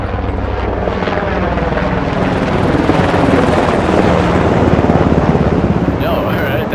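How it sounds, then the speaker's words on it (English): A helicopter in the video game Ground Branch flies close overhead, a loud, dense rotor roar and whine that swells in the middle and stays steady throughout. "Oh, the helicopter."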